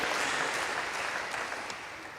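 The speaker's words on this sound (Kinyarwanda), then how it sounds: "Let us put our hands together for the word of God." A congregation at a church service claps together in steady, dense applause that fills the room, holding at full strength before tapering slightly toward the end.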